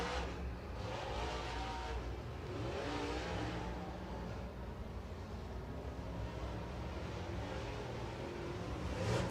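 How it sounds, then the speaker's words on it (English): MARS late model race cars roll out onto the Spoon River Speedway, their engines a low, continuous rumble with rising revs and passing swells, heard at a moderate distance. "Cars rolling out on the Speedway."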